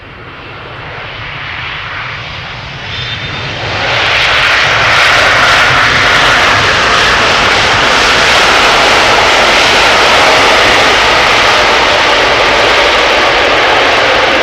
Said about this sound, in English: Focus on the potentially loud landing of the heavy.